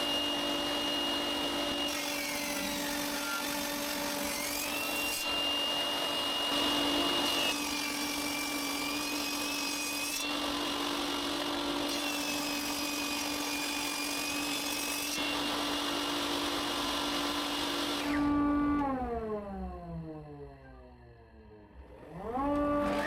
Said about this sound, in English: Then I saw the pieces from two sides so that I get an indentation of half a centimeter on each piece.